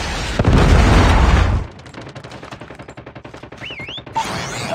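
Predator missile strike in a first-person shooter video game: a heavy rumbling blast that rolls on for over a second, then a rapid rattle of gunfire with smaller pops and whistling tones, loud and close, with no voice.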